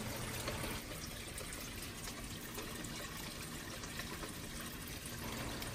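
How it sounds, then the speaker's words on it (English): Water drains and splashes continuously into an uncovered sump beneath a 36-inch aquarium under high drain flow, a steady close rushing and trickling with no talk. "there's no cover on this sump, and it's loud, and with high water drain volumes,"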